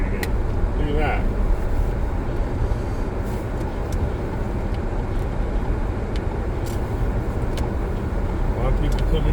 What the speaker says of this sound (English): A lot of incoming traffic.